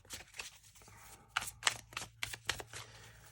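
A deck of tarot cards being shuffled, heard as close, quiet bursts of papery riffling and flicking that come in a loose run of quick strokes.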